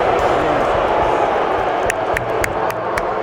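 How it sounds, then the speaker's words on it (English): A WrestleMania 41 crowd at a wrestling match rumbles loudly around Charlotte Flair, with sharp slaps and thuds from the ring cutting through the steady crowd noise. "Charlotte received a ton of boos from the crowd."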